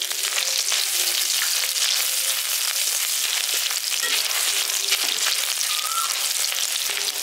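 Chopped green chilies and ginger fry in a pan for a village-style vegetable chop, a steady, loud crackling sizzle that runs unbroken throughout with no talking.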